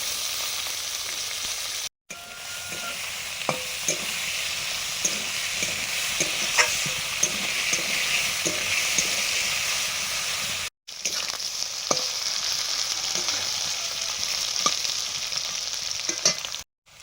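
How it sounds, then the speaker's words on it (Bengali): Potatoes frying in hot oil in a home kitchen pan, a steady close sizzle with occasional stirring clicks and scrapes, broken by two brief silent gaps. "তেল গরম হয়ে গেছে, এখন আলু দিয়ে দিলাম।"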